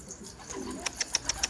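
Several short, soft pigeon coos repeat in a quick series near the end, close by, over quiet background noise.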